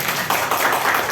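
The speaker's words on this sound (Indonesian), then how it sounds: "Tepuk tangan." Applause from an audience at an education event in a hall, a dense, steady burst of many hands clapping together, close and fairly loud for about a second.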